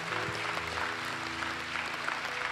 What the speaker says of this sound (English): Let's give him a great hand clap of praise today.